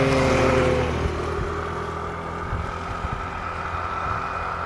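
Vehicles and a motorcycle pass along a village road near a bridge in the late afternoon, a steady, fairly loud engine and road rumble with rises and falls as they go by.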